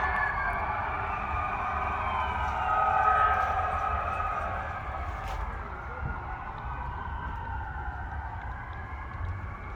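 Wailing emergency vehicle siren sweeping up and down in the distance over a low rumble of background noise at a Home Depot, swelling slightly then receding.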